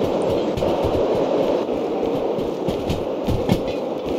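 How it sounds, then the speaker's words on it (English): A train rolls along in the Derail Valley railway simulator game, its rear cars still leaving a tunnel. Steady, loud rumble with faint rhythmic clatter throughout, and no voices. "Here you see the back of the train is still coming out of the tunnel."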